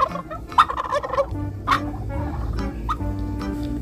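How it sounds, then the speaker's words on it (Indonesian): A black turkey gobbling in a few rapid, warbling bursts, close and clear, with quieter low background rumble between calls. "Wow, ini ada ayam kalkun."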